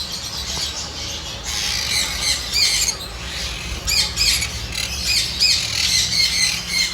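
Sun conure parrots in a bird shop keep up a shrill, continuous chorus of harsh squawks and screeches, several birds calling at once close by with no talk.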